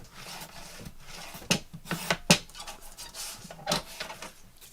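A Timmy paper trimmer blade slides across card stock in a crafting session, giving several short, sharp rasping cuts in a loose rhythm, close and fairly quiet.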